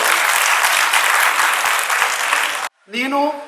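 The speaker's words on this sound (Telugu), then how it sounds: "కొట్టండి చప్పట్లు" Dense audience applause fills a Telugu poetry gathering in a hall, loud and continuous for over two seconds, then stops abruptly before a voice speaks.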